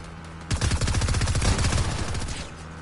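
Gunfire in Fortnite: a dense, sustained burst of rapid shots breaks out after a short lull and rolls on loud and close for about two seconds before easing off.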